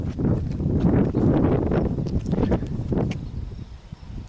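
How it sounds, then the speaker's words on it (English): Gusty wind buffeting the microphone outdoors in a field of seedlings, in uneven rumbling bursts, loud and close, with no speech. "Bear with the wind, it's always windy here."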